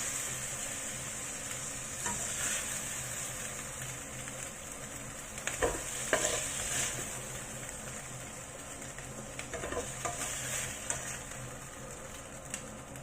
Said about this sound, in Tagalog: Tapos i-fry natin ang ating ingredients.